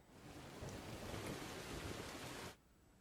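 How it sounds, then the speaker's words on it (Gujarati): Steady rain pours down with a dull thunder rumble in Rajula and Jafrabad, Amreli district, a broad continuous wash of noise that cuts off abruptly near the end, with no voices. "રાજુલા જાફરાબાદ પંથકમાં વરસાદ વરસી રહ્યો છે।"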